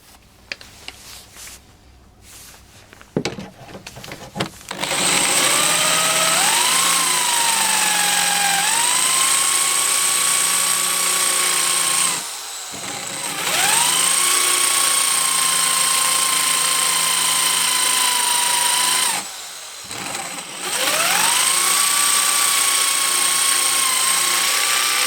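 A Black and Decker KR705K hammer drill whines loudly and steadily in long bursts, its pitch rising as it spins up. It briefly eases off twice before revving again, after a few clicks and clunks at the start.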